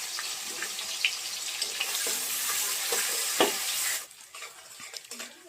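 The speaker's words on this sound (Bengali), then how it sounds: "এরপর আমি অ্যাড করব কুচিয়ে রাখা পেঁয়াজ। পেঁয়াজটাকে ভালো করে ভেজে নিতে হবে।" Chopped onion fries in a pan for spicy aloo dum, a steady broadband sizzle with scattered stirring clicks that drops away sharply near the end, leaving quieter scrapes.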